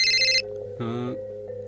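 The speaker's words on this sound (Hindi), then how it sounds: "फोन किसका है?" A phone rings with an electronic ringtone, one bright tonal burst followed by a lower warbling tone, heard over a quiet indoor backdrop.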